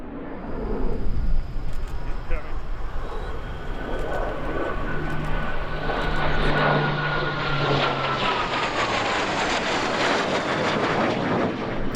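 Royal Canadian Air Force CF-18 Hornet taking off at an airshow, a loud jet roar that swells and builds into a broad rushing blast near the middle before holding on as the fighter climbs away.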